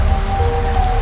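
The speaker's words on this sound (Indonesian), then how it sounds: "Padahal hujan sangat lebat, pikir Mariyati menerka-nerka." Heavy rain, a dense steady hiss of falling water, brief and constant with no pauses.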